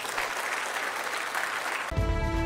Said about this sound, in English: Let us give a big round of applause to the entire team.